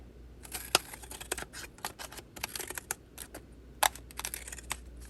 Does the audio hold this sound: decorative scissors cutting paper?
yes